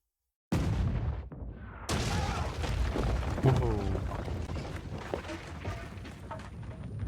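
A cannon fires in Kingdom Come: Deliverance II, a sudden loud boom followed by a second blast and rumbling aftermath, with shouting voices and battle commotion continuing over the echoing roar.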